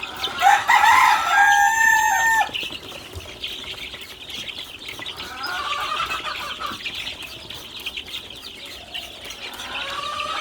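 Chickens kept in a poultry house below, with a rooster crowing loudly near the start and hens clucking and calling more softly through the rest.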